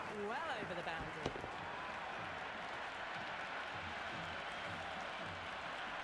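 Steady crowd roar and cheering from a cricket video game, India versus South Africa Test match, fills the whole stretch after a hooked shot goes over the boundary, with commentary talk layered over the noise.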